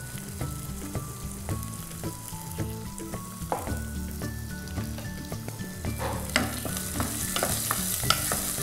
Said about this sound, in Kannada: ಈರುಳ್ಳಿ ಹಸಿ ವಾಸನೆ ಹೋಗೋ ತನಕ ಹುರ್ಕೊಳ್ಳೋಣ.